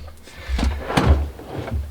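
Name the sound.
drawer opening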